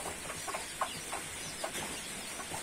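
A mother hen with chicks clucks softly several times in short, scattered bursts over a steady background hiss.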